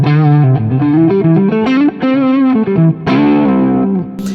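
Electric guitar through a small amp turned up, with modulation, delay and reverb. Crunchy, slightly distorted chords and lead phrases come in quick bursts with short gaps, close and loud, with no speech.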